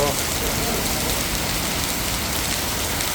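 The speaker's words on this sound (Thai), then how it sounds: "รถพี่ชัยก็ ตากฝนอยู่นะครับ" Heavy storm rain in Kanchanaburi, Thailand, pours down in a dense, unbroken hiss, loud and close, drumming steadily on surfaces throughout.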